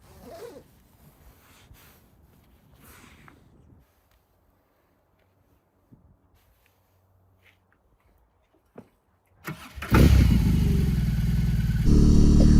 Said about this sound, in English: So let's go ahead and hop on the bike and ride.